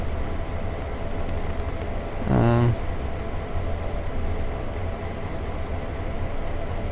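A freight train passes on the other track during a Sand Patch Grade run in Train Sim World 2, heard as a steady rumbling roar with a brief loud horn blast partway through.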